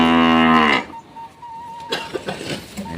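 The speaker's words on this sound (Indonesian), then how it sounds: "melihat sapi Malbor" A Marlboro cow lets out one loud, close, drawn-out moo that ends abruptly, followed by quieter farmyard rustling and shuffling.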